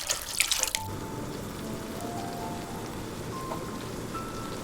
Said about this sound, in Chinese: 注入600毫升的清水